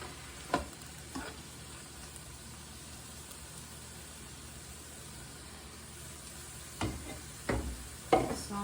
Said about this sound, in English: Saute it in some butter.